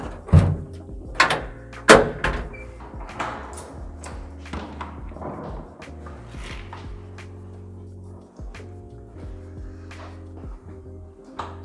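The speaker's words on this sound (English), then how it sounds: "you can't operate the lift until both doors are closed" Lift doors in a Berlin apartment building bang shut with several loud thuds and clanks, and then the lift hums steadily as it runs.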